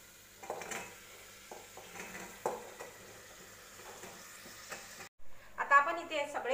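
Eggplant pieces, dusted with turmeric and salt, are tossed in hot oil in a pan for a Khandeshi vangyachi bhaji, giving a soft sizzle with intermittent stirring scrapes, followed by louder spoon-on-pan clatter near the end.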